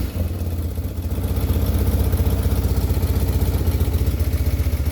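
Warm, freshly tuned motorcycle kicked into life, settling into a loud, close, steady idle with a rapid even pulsing throb and mechanical clatter, no talking.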